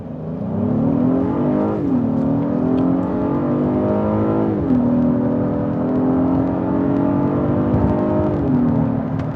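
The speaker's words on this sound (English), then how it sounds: "let's do a quick acceleration test and see how this MDX sounds like from the inside" From inside the cabin of a 2020 Acura MDX A-Spec in sport mode, the V6 engine accelerates hard, its pitch climbing through several gear shifts in a steady, loud drone.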